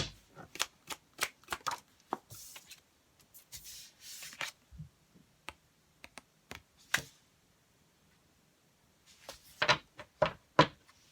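Cards shuffled in short bursts of crisp riffles and taps, close and fairly quiet, with pauses of near silence between groups and another flurry near the end.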